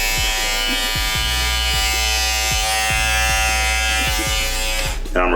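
An Andis GTX EXO hair trimmer runs steadily with a loud, constant electric buzz and faint rhythmic ticks, recorded close up in a break room.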